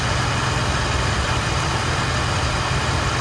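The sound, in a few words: refrigeration compressor running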